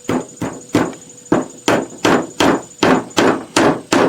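A hammer drives a nail into wood with about ten sharp, evenly spaced strikes, each a loud close knock with a brief metallic ring.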